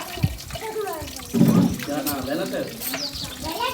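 Water splashes and runs as raw chicken is washed for biryani in a village kitchen setting, a steady close wash of liquid sound with a voice speaking over it.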